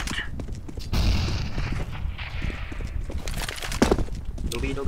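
Grenade thrown and detonating in a first-person shooter game, a dull boom near the one-second mark amid ongoing gunfire and game noise, with players talking over it.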